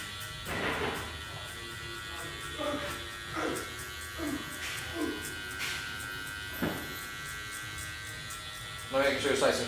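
Electric hair clippers with the blade fully open buzz steadily while cutting a fade, the constant hum broken by brief louder bursts as they pass through hair, with occasional speech over them.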